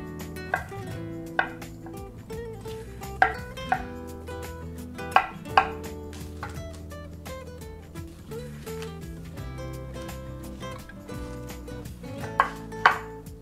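A knife chops steadily on a cutting board, sharp knocks in uneven bursts over soft background music, close and fairly loud.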